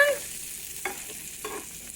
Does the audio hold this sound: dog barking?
no